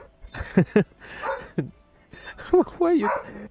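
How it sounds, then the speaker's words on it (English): A pet dog barks in a home, a few sharp yips and woofs in quick bursts mixed in with someone talking, fairly close and moderately loud. "my dog's barking a lot here"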